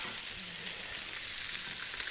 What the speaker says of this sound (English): Now we have the heat in, the pan is sizzling